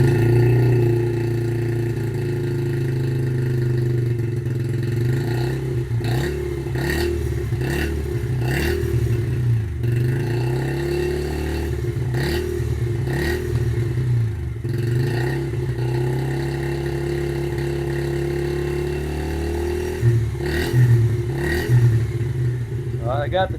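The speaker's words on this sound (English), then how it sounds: "So it's started up, warming up, and then we'll change the oil." A cold 2013 Yamaha TTR 50cc dirt bike engine warms up with the choke on, idling with a steady buzzing rumble, its pitch rising and falling in short revs, while a person talks intermittently over it.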